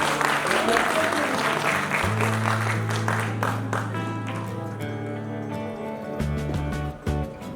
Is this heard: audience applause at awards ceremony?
yes